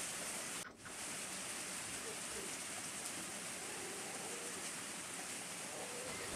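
Light rain easing off to a faint drizzle hisses steadily and evenly as a soft, continuous wash, with one brief dip near the start.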